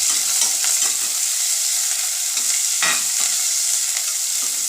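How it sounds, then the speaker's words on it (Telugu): Onion pieces and curry leaves frying in oil for broad bean curry, a constant bright sizzle broken by soft stirring scrapes, close and fairly loud. "ఫ్రై అయిన తర్వాత మనం ఇంకా ఉల్లిపాయ ముక్కలు వేసుకున్నాము"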